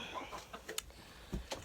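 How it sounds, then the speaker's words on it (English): Chickens cluck softly inside a chicken coop that also houses geese, a few short scattered calls close by with faint rustling between them. "I'm in the chicken coop with the chickens and the geese"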